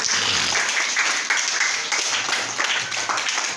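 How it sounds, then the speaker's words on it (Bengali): Children in a primary school classroom clap their hands together in a dense, steady round of applause that stays loud and continuous throughout. "সাকওয়াতের জন্য জোরে একটা হাতে তালি।"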